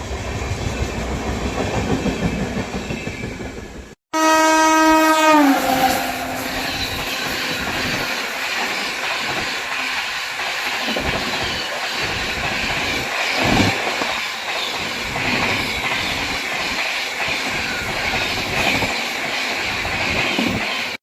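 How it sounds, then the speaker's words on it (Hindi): The Magadh Express departs Aligarh Junction in India. A loud, steady rumble of train wagons rolls past nearby with rhythmic clickety-clack over the rails, briefly preceded by a high, tonal whine. "तो ट्रेन देखता है अपने अलीगढ़ जंक्शन से डिपार्चर हो रही है।"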